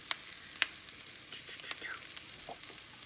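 Turkey and sweet potato frying together in one pan give a soft, steady sizzle with a few sharp clicks and taps near the start. The sound is fairly faint and heard alone, without any talk.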